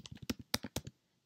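Computer keyboard keys struck in a quick burst of about eight crisp, close clicks while an email address is entered, then silence; no talking.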